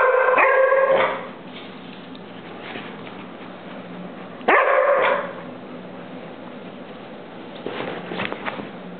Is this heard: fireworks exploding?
no